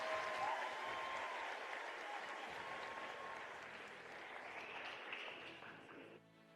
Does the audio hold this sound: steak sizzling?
no